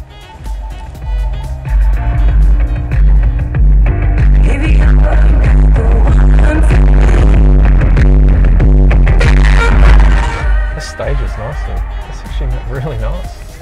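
An award-winning BMW car audio system plays music loudly inside the car, with heavy booming bass and full-range sound throughout, and a voice briefly audible at the edges.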